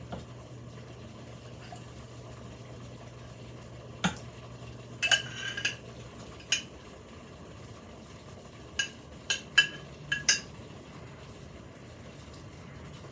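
A spoon clinking against dishes while making artichoke spinach dip: scattered light metallic taps and clatter, close and moderately loud, over a low steady kitchen hum.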